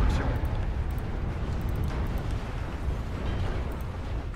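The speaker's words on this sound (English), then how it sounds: "Four chaparrals shooting at him." Chaparral air defense vehicles fire in the WARNO strategy game. The sound is a sustained, moderately quiet rumbling roar of launches and battle noise with faint crackles on top and no clear talk.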